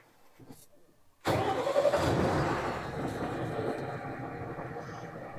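A new truck's diesel engine cranks briefly and catches, then settles into a steady, moderately loud idle, heard close with no talk.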